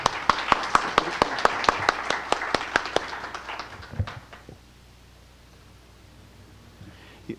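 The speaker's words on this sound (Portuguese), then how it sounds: "o nosso conferencista Petrônio Brás, a quem eu peço, desde logo, uma salva de palmas" A sparse round of clapping greets a lecturer at an academy session, a few hands beating in a steady rhythm for about four seconds before fading into quiet room tone.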